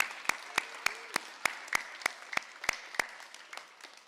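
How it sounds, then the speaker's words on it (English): At an elementary school winter concert, sparse, faint applause for the families comes through as a thin room tone punctuated by distinct, evenly spaced sharp claps from one or a few people. "I think now we need to give our families a round of applause for getting us here tonight."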